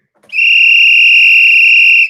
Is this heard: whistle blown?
yes